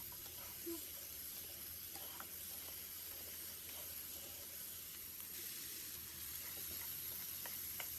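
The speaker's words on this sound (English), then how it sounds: "I add the fried chicken breast into the pan. At this time, the sizzling sound is extremely stimulating" Fried chicken breast sizzling in a pan with pineapple, a faint, steady frying hiss with light crackle and some soft stirring clatter.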